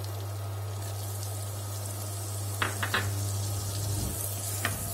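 Chopped spring onion whites sizzling in a pan for a vegetable soup: a soft, steady frying hiss close by, with a few short clatters of utensils, under a low continuous hum and no voices.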